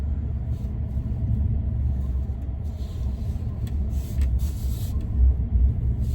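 Tesla Cybertruck driving through a U-turn in a cul-de-sac, a steady low road rumble heard from inside the cabin, with faint tire and mechanical noise swelling slightly toward the end.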